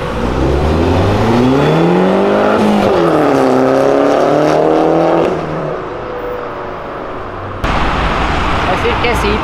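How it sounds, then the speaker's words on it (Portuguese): A Ford Fiesta's engine roars nearby on a city avenue, its pitch climbing and dipping as it revs, then drops to a lower rumble before a burst of noise returns. "mas esse ronco é do caralho."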